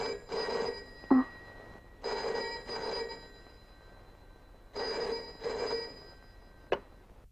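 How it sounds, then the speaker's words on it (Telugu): A telephone bell rings in the middle of the night, giving four double bursts of ringing at a steady cadence. The rings are clear and moderately loud, with a couple of short sharp clicks between them and no voices. "ఓ అర్ధరాత్రి ఫోన్ మోగింది"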